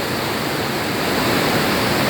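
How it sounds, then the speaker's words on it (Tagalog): Heavy rain pours during a typhoon onto a newly repaired house roof, a dense, loud, unbroken hiss filling the whole moment. "talaga sobrang lakas ng ulan"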